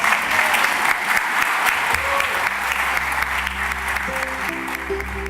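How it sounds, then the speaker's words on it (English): An audience claps steadily and loudly in a full, sustained round of applause, with a low tone emerging under the clapping toward the end. "You can clap to that."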